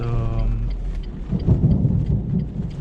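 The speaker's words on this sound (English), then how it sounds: "I have yet to come across such a rain while driving" Heavy rain pours down on a Renault Clio being driven between Breaza and Nistoresti, a loud dense drumming close around the car that follows a short low hum, with no voices.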